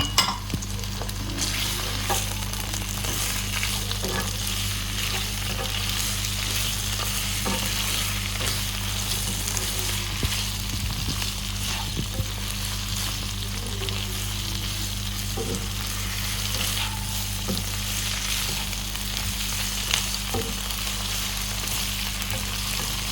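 Mixed vegetables with capsicum frying and being stirred in a pan for korma, a steady close sizzle lasting throughout with intermittent scraping clicks of the spoon, no voices.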